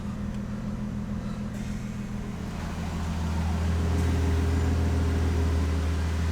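An air compressor runs to fill its tank with pressure before a car's tires are aired up. Its motor gives a steady, close droning hum that grows louder and fuller about halfway through, with no talking.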